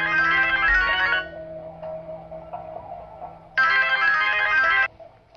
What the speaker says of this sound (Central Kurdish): ساوی تەلەفۆنەکە لێ دەدا